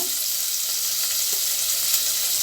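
Seasoning of green chillies and spices crackles in hot oil in a pan, a loud, continuous bright sizzle with scattered pops, steady throughout and with no voices.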